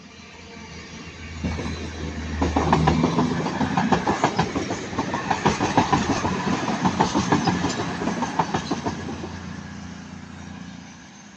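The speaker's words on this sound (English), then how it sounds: "220-033 again, going from Manchester Piccadilly to Bournemouth" A Cross Country class 220 diesel multiple unit, 220-033, passes through Ardwick, rising from a low engine rumble into a steady clickety-clack of wheels over rail joints for several seconds, then fading away.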